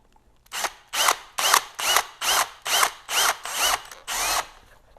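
A power drill with a 3/16 drill bit boring holes while installing window valances on a GMC motorhome, nine short whining bursts in a regular rhythm with brief pauses between, loud and close.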